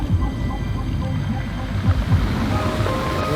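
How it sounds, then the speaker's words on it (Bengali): Strong wind blowing by the sea near rocks, a loud continuous low rumble of gusts buffeting the microphone, mixed with wave wash, steady throughout the short stretch. "না, এখানে শুধু প্রবল বাতাস আছে।"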